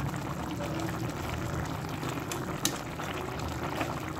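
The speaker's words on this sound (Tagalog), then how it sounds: "Konting kulo na lang at luto na para hindi ma-overcook." Papaya boils in a pot, a continuous close bubbling and gurgling with a soft hiss and occasional louder pops, no talk.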